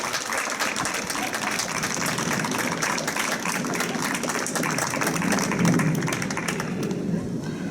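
Audience at a school graduation ceremony giving loud, sustained applause for the supporting adults, a dense clatter of many hands clapping that swells slightly near the end before easing off.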